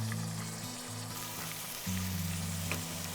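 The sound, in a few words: ginger and peppercorns frying in chicken fat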